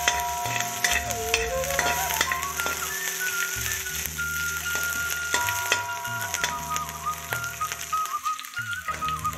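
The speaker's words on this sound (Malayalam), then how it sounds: "അപ്പം ഇഞ്ചിയും കറിവേപ്പില, പച്ചമുളക് ഇതൊക്കെ ഇട്ട് ഒന്ന് ജസ്റ്റ് വഴറ്റി എടുക്കാം" Green chilies, ginger and curry leaves sauté in a pan with a dense, continuous sizzle and crackle. A thin whistling tone and faint music-like notes run underneath.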